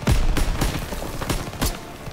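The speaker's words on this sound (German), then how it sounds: "Oh, schöner Schuss auf den Sniper auch noch." Gunfire in the World War II shooter Call of Duty WWII, a string of about five sharp, punchy shots spaced irregularly with short decays between them.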